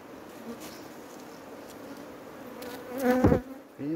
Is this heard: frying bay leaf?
no